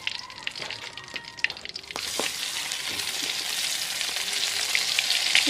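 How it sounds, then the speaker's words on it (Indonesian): Pressure-cooked milkfish coated in egg fries in hot oil in a pan, giving a steady crackling sizzle that grows fuller and louder after a couple of seconds, with faint clinks early on. "Goreng ikan"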